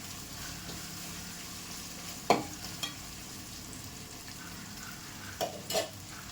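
Ginger and garlic being sautéed in a pan for pepper chicken gravy, with a low steady sizzle under a few sharp clinks of a spoon against the pan.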